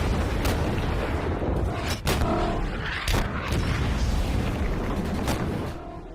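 Tank cannon fire from a war film about the White Tiger tank battling Soviet T-34s: loud heavy booms and blasts over a dense rumbling battle din, with sharp hits near the two- and three-second marks.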